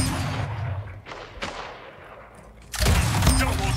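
Gunfire in the Splitgate arena shooter, a few sharp shots early on, then a quieter gap before a loud, dense volley of rapid fire erupts near the end.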